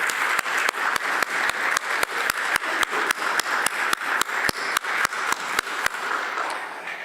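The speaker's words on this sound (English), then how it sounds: "give just a little round of applause to the board members of the Survivor Secretariat" Applause from a small group at a survivors' annual general meeting, honoring the board members: steady, evenly spaced claps with a few sharp standout hits, lasting about seven seconds before fading slightly.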